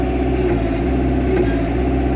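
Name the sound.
Kubota KH-90 excavator engine running under load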